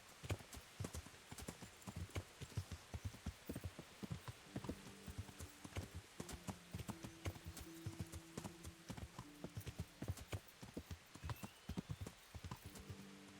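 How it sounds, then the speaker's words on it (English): In the medieval video game Kingdom Come: Deliverance, a horse's hooves clip-clop in a steady, quiet rhythm, with faint sustained tones from the game's soundtrack partway through. "He's not the fastest horse, but he barely ever runs out of stamina, ever."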